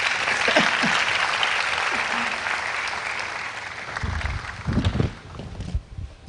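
A church forum audience applauds to welcome a speaker, a full burst of many clapping hands that thins out after a few seconds as nearby voices start talking.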